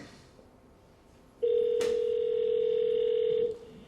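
A telephone rings once in a played phone call recording, a steady two-second tone that starts abruptly and stops, clear over a faint background hiss.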